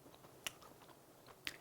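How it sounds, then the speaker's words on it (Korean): Close-up chewing of a crunchy Korean yakgwa honey pastry, crisp outside and moist inside, with two sharp crisp bites standing out over softer, steady munching. "약과 이렇게 먹어보도록 할게요"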